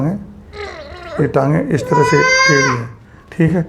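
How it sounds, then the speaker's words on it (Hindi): An infant being examined for bowed, bent legs from rickets cries out in loud, wailing bursts, close by and mixed with an adult's steady talking. "बच्चा रो रहा है।"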